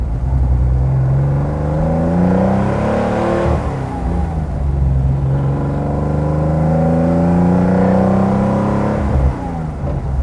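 A 1970 Porsche 914-6 GT engine pulls hard on a road drive, rising and falling through gear changes with a loud, close, raspy drone and no voices.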